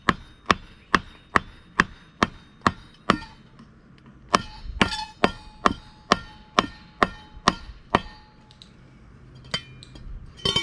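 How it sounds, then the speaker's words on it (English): Hammer strikes drive an upper crankshaft oil seal into a 2014-or-later Yamaha 115 outboard, a run of sharp metallic taps spaced evenly and close by, a short pause mid-way, then more steady blows, with no talk. "just gently hammer it down until the seal is flush"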